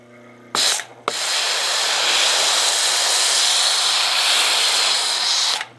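A foam cannon lance on a pressure washer running a little over 1,000 PSI lets out a loud, steady, broad hiss of spray lasting several seconds, with short bursts just before it and a sudden cutoff at the end.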